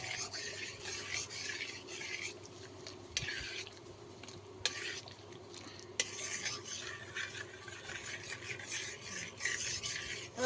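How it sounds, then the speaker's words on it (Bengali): A spoon stirs and mixes a hot liquid made with one spoonful of an added ingredient, giving a steady scraping and swishing with a few sharp clinks against the vessel, close and fairly quiet, without talk. "এবার ভালোভাবে নেড়ে চেড়ে এটাকে মিশিয়ে নেব।"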